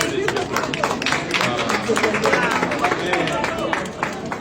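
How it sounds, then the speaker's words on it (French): An indoor audience claps in a dense, continuous patter with light crowd murmur underneath, and voices talk over it. "Il faut applaudir"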